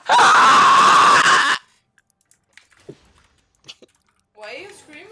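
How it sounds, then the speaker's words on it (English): A person screams loudly and alone for about a second and a half during a League of Legends period-cramp challenge, followed by quiet clicks and small noises, then a short stretch of speech near the end. "Why are you screaming?"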